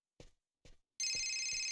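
A telephone rings in the video game Fahrenheit: Indigo Prophecy, with two short knocks or thuds first, then a loud, steady electronic ring starting about a second in, close and alone.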